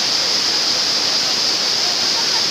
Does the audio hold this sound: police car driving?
no